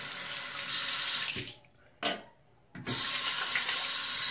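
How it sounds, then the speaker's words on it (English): Tap water runs steadily into a sink during a wet shave rinse. The flow cuts off briefly with a single splash, then resumes at full strength. "Alright, let me rinse this off real quick."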